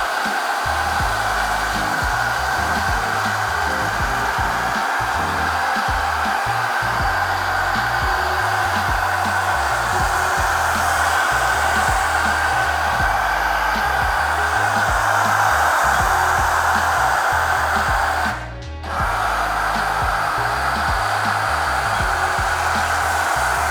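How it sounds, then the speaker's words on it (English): A foam sprayer applies citrus wash foam to a truck bed liner, a steady loud hissing whoosh lasting throughout, with a brief interruption near the end. "we're gonna go ahead and begin foaming this"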